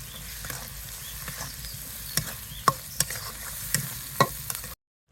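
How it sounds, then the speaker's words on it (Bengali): Spices with green chili, turmeric, rice powder and salt fry in oil for a prawn curry, producing a continuous close sizzle punctuated by several sharp clicks of stirring. "এবার ভালো করে মশলাটা কষিয়ে নেব"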